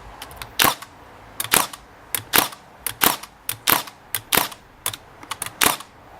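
A Makita 18V DST630 cordless narrow crown stapler fires staples in a brisk series of about a dozen sharp, loud snapping shots, close by and irregularly spaced, with no voices.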